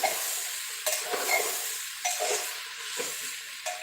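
Stirring and mixing soya chunks, vadi and other ingredients together in a pan over a low flame while preparing pulao, a steady sizzle beneath several distinct scraping stir strokes, close and moderately loud.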